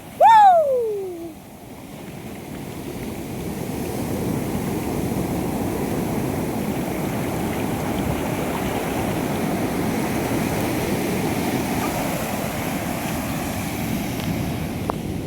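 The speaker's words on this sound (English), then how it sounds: "look at the waves" Arabian Sea waves breaking on the beach below the South Cliff at Varkala, a broad continuous roar of surf heard from above, after a brief whistled or sung tone at the start.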